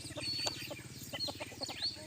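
Bantam chickens cluck in a steady stream of soft, rapid clucks, with faint high chirps of chicks scattered over them, fairly quiet and close, on a hot evening.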